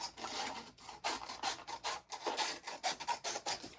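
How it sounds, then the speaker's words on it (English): Trimming a piece of material for a Renaissance folio, a series of short rasping, scraping strokes in an uneven rhythm with brief pauses between them, close and fairly loud with no voice. "Oh, this is a little bit bigger, so I'm going to trim a little off over here."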